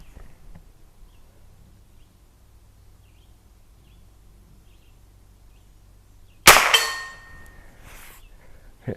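A single sharp rifle shot from a Henry long barrel Frontier lever-action rifle fired at dirt bag targets, a loud crack with a brief ringing tail after several seconds of quiet outdoor background.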